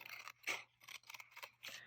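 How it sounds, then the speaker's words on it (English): Small curved scissors snip through paper in a quick run of crisp, close cuts, about half a dozen short bursts in an uneven in-and-out rhythm while shaping a wavy edge, quiet and alone. "I'm going to intentionally cut a wavy edge a distance away. I'm just kind of going in and out, and I have my little curvy scissors."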